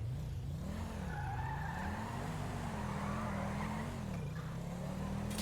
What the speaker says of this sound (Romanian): Patinează mașina asta, aoleu.